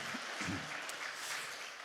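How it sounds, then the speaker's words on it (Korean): A church congregation at a prayer retreat claps together, a brief steady burst of applause heard at a moderate distance. "박수 한번 하겠습니다."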